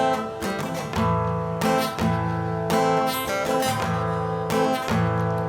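Guitar strummed in a zapin rhythm pattern, a steady syncopated chord figure with ringing strings, played alone and fairly close for several bars.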